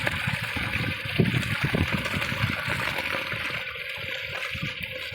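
Water gushing and splashing out of a drip irrigation pipe on a drumstick tree farm, flushing out clogging stones, with rough, gurgling turbulence and a continuous rushing flow, close by.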